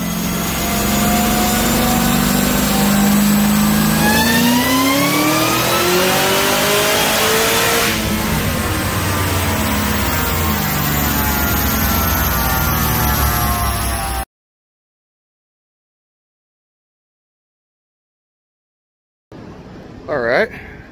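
Cadillac CTS-V with a ported Kong Stage X LSA supercharged engine, making over 900 wheel horsepower, revving hard on a dyno: a loud, sustained climbing roar that peaks and drops, then silence before a brief burst of noise and voices.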